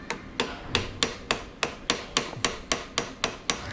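A tool struck repeatedly against an adjusting nut to turn it, giving about eleven sharp metallic taps in a steady, even rhythm, close and fairly loud with no talking.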